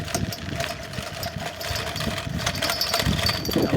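A motorbike engine runs steadily in a Ugandan village, a continuous mid-pitched drone that holds even and fairly close for the whole stretch.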